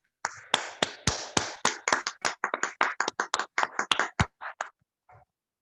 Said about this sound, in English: Please, a round of applause as she educates us on her role.